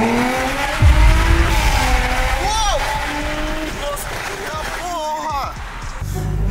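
A car engine with a deep, changed exhaust note rumbles loudly nearby, with a few rising and falling revs, while people talk over it throughout.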